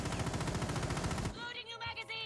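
Rapid automatic gunfire fired at a wall in Rainbow Six Siege, a fast even burst of shots for over a second that cuts off abruptly, followed by a faint ringing tail and quieter sounds.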